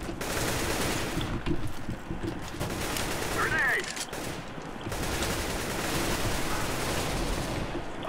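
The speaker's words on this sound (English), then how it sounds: "I'm shooting a teammate by accident" Gunfire from a Counter-Strike: Global Offensive match rattles in steady bursts throughout, dense and continuous beneath background game noise, with players talking over it.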